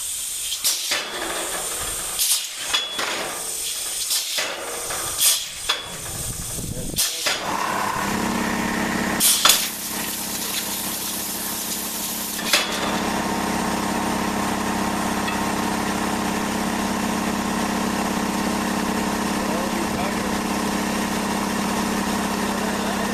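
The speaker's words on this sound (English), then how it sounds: "my compressor's not turned on. Let's power up." A shop air compressor for a homemade plastic injection molding machine powers up after some bumps and handling noises, then settles into a loud, steady humming drone with hiss that carries on alone.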